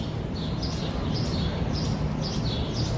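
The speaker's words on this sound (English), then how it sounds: "You can even hear the birds singing there." Small birds chirp in short, repeated bright phrases over steady outdoor city hum on the grounds of an 1800s church in downtown Chicago.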